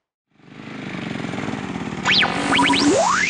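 A dirt bike engine starts up and runs with a rough, buzzing drone that rises in pitch as the throttle opens, with a revving whine near the end.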